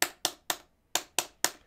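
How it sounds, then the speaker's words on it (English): Six sharp, crisp clicks from a standard button with the lever attached, in two groups of three with a short pause between, close and clear with no talk. "This is the sound of a standard button."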